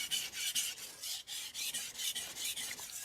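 A Kohetsu HAP40 gyuto knife is stroked across a King Neo 800 whetstone with a rhythmic, gritty rasp, about a dozen even back-and-forth passes in quick succession, close and clear.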